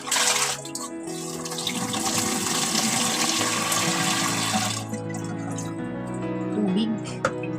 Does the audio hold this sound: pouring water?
yes